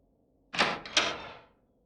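A heavy door opening in the asylum horror game A Return To Bedlam, two loud creaking, scraping pulls in close succession that fade out, heard alone.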